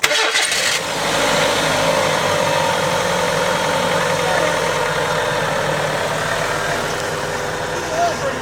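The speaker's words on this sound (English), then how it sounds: "I'm going to start it up and see how it goes." A 2005 Kia Rio, just fitted with new spark plugs and burning a little oil, starts with a short crank, then catches and settles into a steady, close idle with a faint knock.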